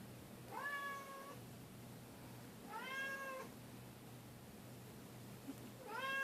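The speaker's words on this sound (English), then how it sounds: "It's my cat." A cat meows three times, each a drawn-out, fairly faint call spaced a couple of seconds apart over a low steady hum.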